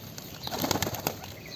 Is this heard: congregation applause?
no